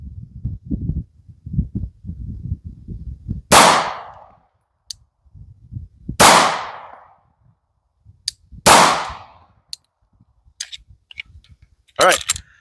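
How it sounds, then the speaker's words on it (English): Four sharp, loud 9mm pistol shots ring out at a shooting range, fired one at a time a few seconds apart, each with a short ringing decay, after some low murmuring voices and handling noise. "So let's go ahead, throw some rounds down range"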